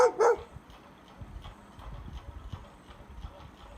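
A dog barks in a quick burst of two loud, close yaps at the start, then only faint background noise remains, with no talk.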